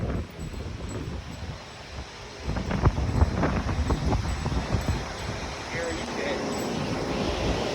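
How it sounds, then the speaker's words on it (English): Strong wind roars outdoors with misty drizzle before a tornado, a loud continuous rushing buffet that swells midway, with a voice speaking beneath it. "Some serious wind out here."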